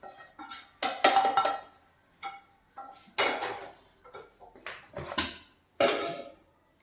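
Spice powders get mixed into raw chicken in a dish while cooking a chicken roast, giving intermittent clinks and scrapes of utensils against the dish in short separate bursts, fairly quiet and close, with no talking.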